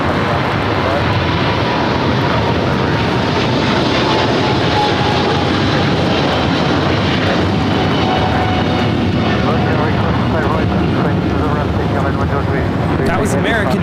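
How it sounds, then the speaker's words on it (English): An American Airlines Boeing 777-300ER roars down the runway at LAX on takeoff, a loud, sustained, broadband jet thunder filling the whole stretch without letup. "That was American Airlines Flight 73 taking off to Sydney, Australia on the 777-300ER."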